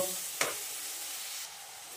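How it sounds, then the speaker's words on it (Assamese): Tomatoes salted and frying down in a pan for a cashew-onion masala curry, a soft steady sizzle with one sharp stir or scrape of the spoon early on, the hiss easing slightly near the end. "এইখিনি এতিয়া সম্পূৰ্ণ গলি যোৱালৈকে ভাজি ল'ব লাগিব"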